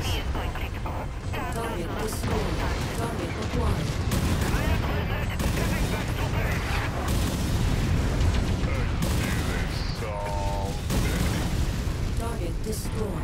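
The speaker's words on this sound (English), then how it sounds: "Artillery everywhere." Artillery fire in Mechwarrior 5: Mercenaries pounds in dense, continuous booms and crackling blasts, loud and layered over game effects, with a voice talking partway through.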